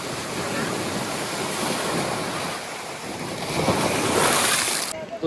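Morning sea waves at Digha beach, a loud continuous wash of surf swelling and breaking nearby, with wind buffeting the microphone.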